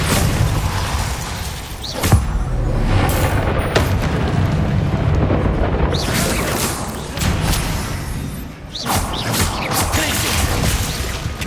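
Spell casts and explosions in Hogwarts Legacy: a steady, loud barrage of magical booms, whooshes and crashes during combat, with spell names called out over the noise.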